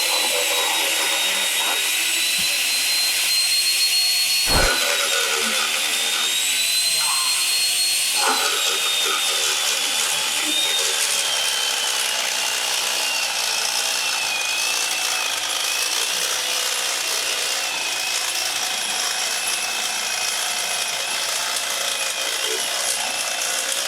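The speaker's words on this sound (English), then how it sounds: "We just beveled that piece of pipe" A Ridgid pipe beveling tool cuts a bevel on a pipe end, a loud, steady, high whirring grind that runs throughout, with a sharp knock near the start.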